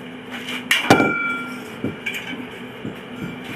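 A hammer planishes a steel armour knee cuff: a few sharp metallic strikes with ringing overtones, spaced irregularly and fairly close.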